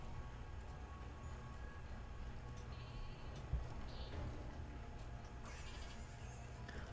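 Sheep in the video game Flockers bleat faintly over a steady hum of game music and ambience, a few short cries rising briefly through the mix.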